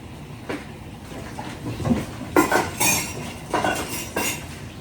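Dishes being washed: scattered clinks and clatters of pots and utensils, with splashy bursts of scrubbing and rinsing, fairly close and irregular.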